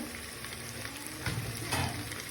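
Onions for mutton kosha sizzle steadily in a hot pan, a close, even crackle with a couple of brief stirring scrapes, and no one speaking.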